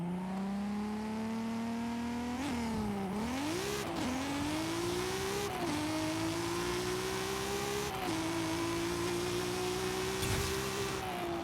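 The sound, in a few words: 1998 Toyota Supra drag launch, from video game Forza Horizon 5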